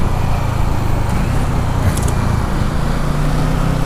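A 2017 Kawasaki Z650 motorcycle rides and overtakes with a loud, steady engine and road rush, mixed with passing traffic and wind.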